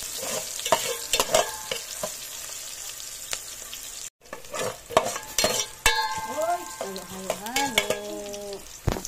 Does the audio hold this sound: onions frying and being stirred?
yes